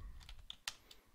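Computer keyboard keys clacking in a short, irregular burst of typing, with one sharper key strike near the middle, close and fairly quiet with no voices.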